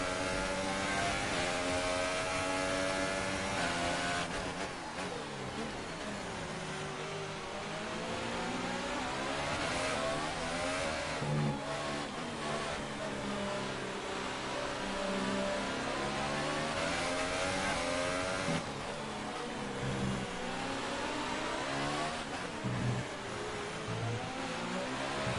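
An F1 car engine in the F1 2018 racing game screams continuously at high revs, its pitch sweeping up through gear changes and dipping under braking, loud and close throughout with no talking.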